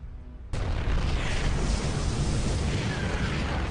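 A Terran Seeker Missile detonates among Protoss High Templar in StarCraft II. A sudden loud blast erupts and then rolls on as a long, dense, roaring rumble of sustained explosion noise.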